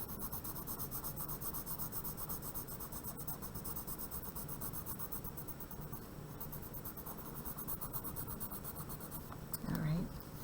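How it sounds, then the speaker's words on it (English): A charcoal pencil scratches and rubs steadily on paper during a drawing demonstration, a continuous close, dry, gritty texture with no pauses. "I'm going to switch to a different charcoal pencil."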